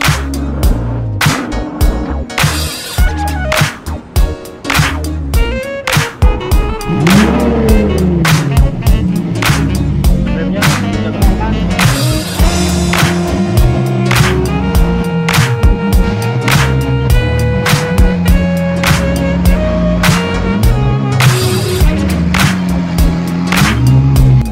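A Lamborghini Aventador supercar engine runs loudly and steadily after its ignition coil was replaced, with revs swelling and dropping several times in a close, continuous roar; music also plays.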